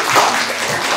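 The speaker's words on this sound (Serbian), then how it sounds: "Aplauz za slovo Dž." A second of dense, continuous applause from a group, a steady bright patter of hands with no voices over it.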